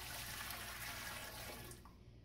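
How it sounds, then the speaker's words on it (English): Water pouring steadily into a canner for canning beans, a continuous faint splashing rush that tapers off near the end. "putting in a heaping gallon of water into my jar"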